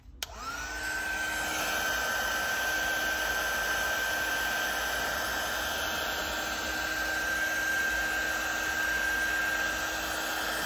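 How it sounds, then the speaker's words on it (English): A heat gun blows steadily and loudly at Echo poly (2654E) to soften it for bending, a continuous whirring fan roar with a high whine that holds unchanged for about ten seconds, with no talking. "apply heat with it as precisely as possible with a heat gun"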